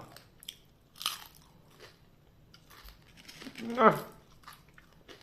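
Someone bites into rice-field crab fried in crispy batter, close up. A few loud, crunchy bites and some chewing come between stretches of someone talking.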